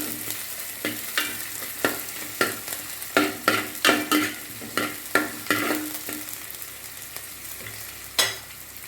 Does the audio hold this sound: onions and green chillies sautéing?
yes